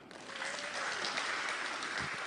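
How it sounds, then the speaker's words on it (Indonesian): Applause at a parliamentary hearing, a brief burst of steady clapping from a room full of people, fairly soft and distant. "Boleh tepuk tangan."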